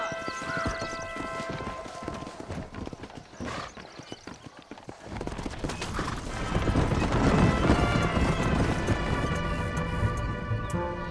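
In the video game Red Dead Redemption, a horse's hooves clip-clop in a quick galloping rhythm, close and steady, joined by a rising rush of movement in the second half.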